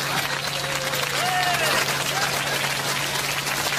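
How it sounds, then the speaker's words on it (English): Studio audience applauding, a steady dense wash of clapping that holds at an even level throughout, with a faint whistle or cheer rising briefly in the middle. "Let's give them a big round of applause."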